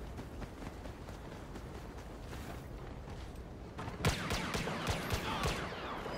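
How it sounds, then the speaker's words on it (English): Rapid blaster fire in the Star Wars Battlefront video game, a muffled stream of shots that turns into a louder, sharper burst of quick repeated blasts partway through. "When you hold Y, he can shoot like rapidly without any recoil."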